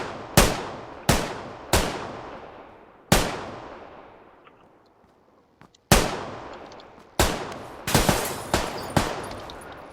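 Gunfire in PUBG Lite: a handful of sharp, loud single shots ring out at irregular intervals, each trailing off in a decaying echo, with a quick cluster of shots near the end and a brief quiet gap midway.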